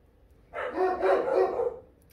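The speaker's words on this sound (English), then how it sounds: "And I'm sorry for my dogs. They love to bark." A single dog gives one drawn-out bark or howl lasting about a second, near and fairly loud over a quiet room, with no talk.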